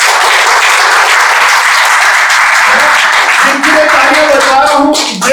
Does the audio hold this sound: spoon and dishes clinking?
no